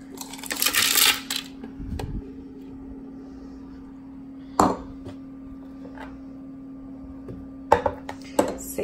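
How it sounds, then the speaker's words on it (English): Ice cubes dropped into a blender jar holding papaya for a shake: loud clattering clinks at the start, another burst midway and a few sharp knocks near the end, over a steady low hum. "The next thing we're going to do, we're going to add our ice."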